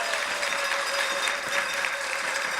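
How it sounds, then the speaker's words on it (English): Audience applause at a Trans Pride awards and keynote event in Washington DC, a steady wash of many hands clapping at moderate distance, continuous and even throughout. "Let's give them a round of applause as well."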